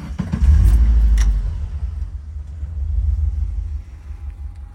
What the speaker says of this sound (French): je ne vais pas vous montrer le moteur, je vais juste vous faire entendre le bruit